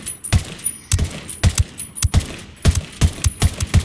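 Gunfire in Ghost Recon Wildlands, a steady series of sharp, evenly spaced rifle shots, roughly two or three per second, fairly close and distinct, with faint metallic clinks between them.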